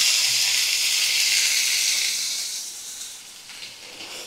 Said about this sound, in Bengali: মটরটা দিয়ে একটু ভাজা ভাজা করে নিই